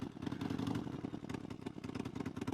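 A Harley-Davidson motorcycle ridden on the road, its engine rumbling with a steady pulsing throb and some clatter, loud and close with slight variations in throttle.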